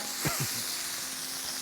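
Scallops and chorizo sizzling on a Vulcanus grill, a close, even hiss and crackle with a few soft shuffles as the food is moved across the hot surface.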